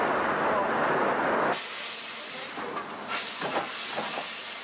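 The steam locomotive Triumph on the Sittingbourne to Kemsley Down industrial railway, readying the first train of the day: a loud, close burst of hissing steam, then it cuts off to quieter puffs and clanks.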